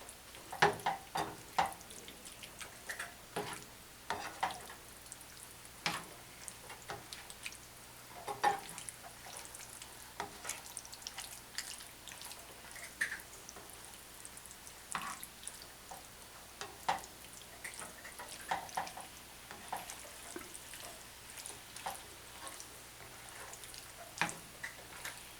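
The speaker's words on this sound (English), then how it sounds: "Try to get the sauce nice and evenly distributed when I'm doing it like this in a pan." Pasta sauce stirred in a pan, giving soft, close clicks and wet taps in an uneven rhythm with a faint sizzle underneath, quiet and with no talk.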